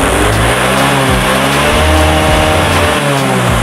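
A Yamaha Soul GT 115 motorcycle engine with a newly installed cylinder block is revved up and down close by, loud rising and falling throttle blips with no talking.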